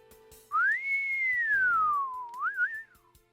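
In the video game Dies irae, a single long goofy whistle rises, then glides slowly downward and ends in a wobbly flourish, clear and prominent with no talk over it.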